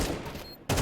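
Gunfire in Counter-Strike 2 during a competitive match: a sharp, loud burst of shots fills the moment, a short lull follows, then another close burst cracks in.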